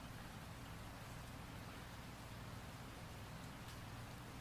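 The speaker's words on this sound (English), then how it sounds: "The rain falls in a soft hush, wrapping everything in a cocoon of stillness." Soft rain falls steadily outside a cabin, an even, dense hiss with no breaks or voices, moderately loud and unchanging throughout.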